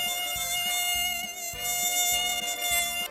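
High, thin insect whine like mosquitoes buzzing in a quiet forest clearing, steady throughout with faint low rhythmic noises underneath and no talking.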